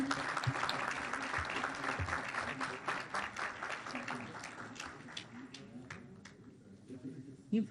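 A crowd at an inaugural event applauds steadily for several seconds, the clapping dense and sustained, then thinning a little toward the end.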